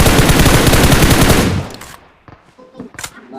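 Rapid automatic gunfire in the PUBG video game, likely from an M249 or AKM: a loud, dense burst for about a second and a half, then a few scattered quieter shots and clicks.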